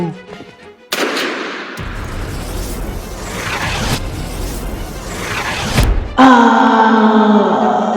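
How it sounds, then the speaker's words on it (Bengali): A gunshot in a Bengali horror cartoon, a single sharp loud blast followed by a sustained noisy rumbling burst that cuts off into a tonal musical sting. "তার বন্দুকটা হাতে নিয়ে জগার পিছন দিকে একটা গুলি করলো"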